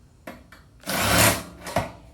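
A drill bit deburrs a drilled hole in sheet metal, with two short whirring touches followed by a longer, louder grinding burst and a final brief spin, close and without talk.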